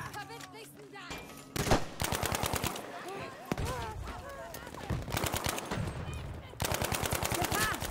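Automatic gunfire in Battlefield V crackles in several loud, rapid bursts with short pauses between them, alongside game effects.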